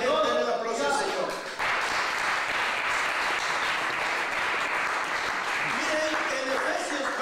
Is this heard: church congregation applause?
yes